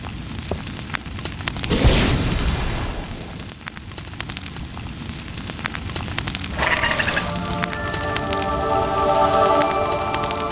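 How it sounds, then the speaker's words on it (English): A dragon egg hatches in a fire in the Harry Potter and the Philosopher's Stone PC game, with crackling bursts, a soft whoosh and a rising cluster of tonal magical chimes late in the clip. "You've done it, Harry. It's hatching."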